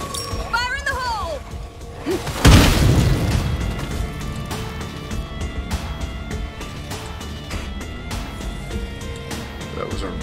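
A loud in-game explosion from State of Decay 2 bursts out as a sudden broadband boom, then rumbles and decays into a sustained noisy wash, with game sounds and a voice around it.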